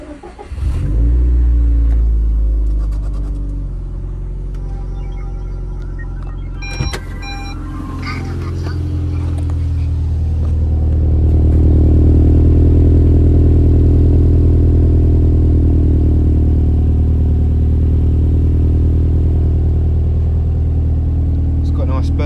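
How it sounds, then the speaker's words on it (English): A 2009 Subaru Impreza WRX STi Spec-C exhaust idles loud and close on a cold start, with a low steady rumble that swells partway through and stays strong. Brief clatter comes near the start, and a voice speaks over it. "You can hear the exhaust as well, and a bit of a cold start."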